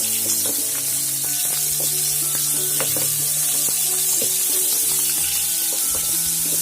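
Marinated fish pieces fry in hot oil in a pan, giving a steady, loud sizzle that runs throughout with small crackles and no talking.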